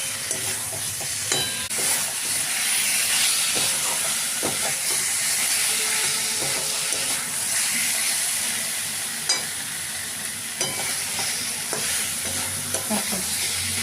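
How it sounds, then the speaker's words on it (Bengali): Pointed gourd, potato and shrimp sauté in a pan, holding a steady, close sizzle and hiss throughout with intermittent scrapes and knocks from stirring, and no voices. "চিংড়ি মাছগুলো দিয়ে দিলাম। এবার সব কিছু দেওয়া হয়ে গেছে, একটু ভালোভাবে কষিয়ে তারপরে জল দিয়ে দেবো।"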